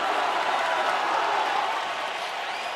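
Football stadium crowd at an Iowa State versus Iowa college game roaring and applauding as the defense urges them on, a dense, steady wall of cheering heard from a distance throughout.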